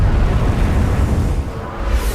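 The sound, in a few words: live bouncing bomb (Upkeep) exploding in wartime test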